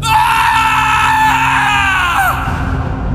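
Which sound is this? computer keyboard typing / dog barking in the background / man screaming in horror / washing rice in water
man screaming in horror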